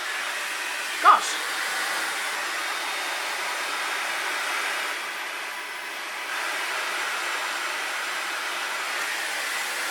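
A Dyson Supersonic hair dryer blows with a steady airy whoosh for the whole stretch, opening with a short sharp click and dipping slightly midway, with no talking.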